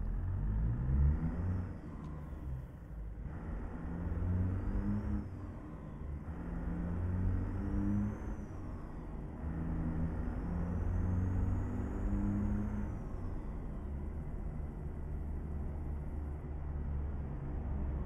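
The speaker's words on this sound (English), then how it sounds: "This truck right here, this truck got the 3406E Caterpillar in it" A deep, steady diesel engine of a truck with a Caterpillar 3406E rumbles continuously in a trucking video game, with faint rising whines drifting in and out above it.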